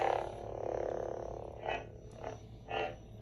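A toy lightsaber with a purple crystal gives off faint electronic swooshing hums as it is moved, a steady drone broken by three short rising swells near the end.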